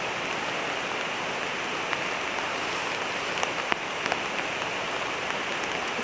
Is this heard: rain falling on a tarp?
yes